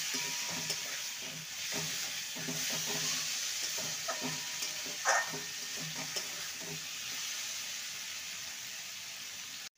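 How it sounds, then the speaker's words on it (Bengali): Fried potato and pumpkin sizzle steadily in a pan as they are stirred into spices, with scraping stir strokes recurring every second or so and a brief sharp spatter partway through; no one speaks. "এবার ভেজে রাখা আলু আর কুমড়ো দিয়ে দেবো। ভালো করে মশলার সাথে কষিয়ে নেব।"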